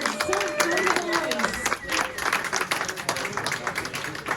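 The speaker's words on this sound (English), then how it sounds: "let's have a big round of applause for our Cool Running Colts this evening" A press conference audience gives a big round of applause for the Cool Running Colts after the Belle Vue v Kent meeting, a dense wash of clapping that runs throughout, with a voice talking loudly over it.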